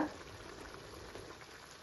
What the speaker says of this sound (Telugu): కూర అయితే చక్క దగ్గర పడిపోయింది ఇక అలా ఉడికితే చాలండి